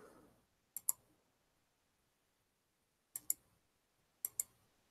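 Keys on a computer keyboard click in three quick pairs, sharp and fairly close, separated by long quiet gaps in an otherwise still room.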